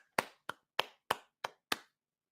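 Six sharp claps ring out in an evenly spaced rhythm, crisp and close, then stop into silence.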